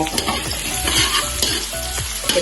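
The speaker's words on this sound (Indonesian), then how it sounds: "tumis sampai dengan harum banget ini teman-teman" Garlic sizzles and sautés in a hot frying pan, with a steady crackling fry broken by repeated scraping stirs of a utensil against the pan, close and fairly loud throughout.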